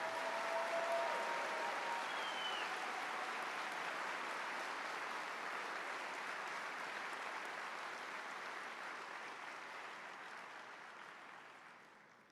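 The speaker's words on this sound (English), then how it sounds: "Let's give all of our master's and PhD graduates one more round of applause." A large commencement crowd applauds master's and PhD graduates at a 2026 joint biomedical engineering ceremony, a broad, sustained roar of clapping heard from a distance that slowly tapers off over about twelve seconds.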